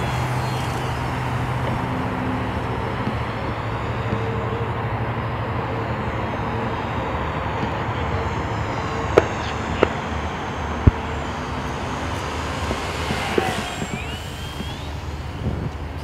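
A Dynam Sbach 342 four-channel aerobatic RC plane flies a low pass and a touch-and-go, its engine a steady drone that holds throughout, with a few sharp clicks near the end and no talk.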